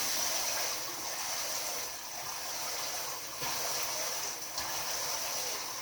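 Water with conditioner mixed in is stirred in a basin for washing a hand-tied cap wig, making a soft, continuous swishing and sloshing that stays faint and close, with no voices.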